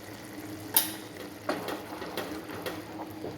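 A spatula stirs tomato masala gravy with turmeric in a pan, giving soft scrapes and clacks against the metal at irregular intervals over a low, steady sizzle of cooking oil.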